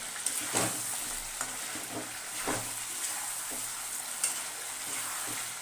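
Two eggs fry in hot oil in a wok, crackling and sizzling continuously, with occasional louder spits and scraping stirs.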